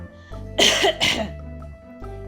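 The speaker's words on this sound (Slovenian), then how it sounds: "Kašlja" Close, loud coughing acted out as a sound effect in a children's story about a sick teddy bear: two sharp coughs in quick succession over a low sustained background tone.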